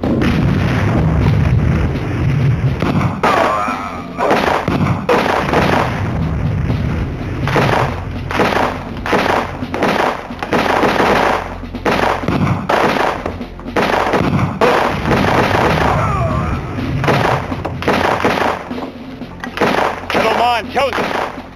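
Repeated loud gunshots from The Last Bounty Hunter, a 1994 American Laser Games title on MS-DOS, boom in irregular bursts, mixed with spoken dialogue throughout.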